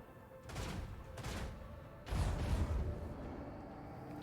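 Weapons fire slamming into a starship's shields in Warhammer 40k: Rogue Trader, three muffled booming impacts spaced about a second apart, the last one heavier with a rumbling tail that lingers under a steady hum.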